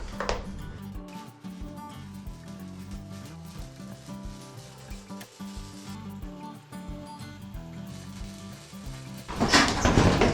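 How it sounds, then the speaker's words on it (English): Short crackling bursts of a welder tacking a bracket for a race truck bumper sound close by, sputtering on and off in an irregular rhythm, then a louder rush of noise comes at the end. "I probably should tack weld this and then test it with the bumper skin"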